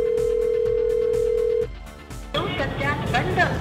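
A call to a switched-off Idea mobile number: a sustained electronic tone ends, then a recorded network announcement follows.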